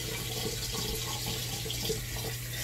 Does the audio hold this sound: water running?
yes